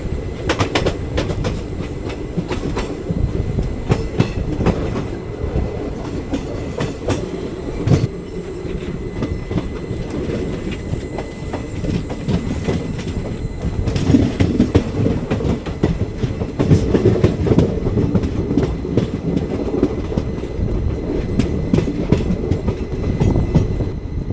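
An express train in Karnataka rolls along the tracks near Maddur without pause, wheels clattering in a steady clickety-clack with loud rumbling throughout.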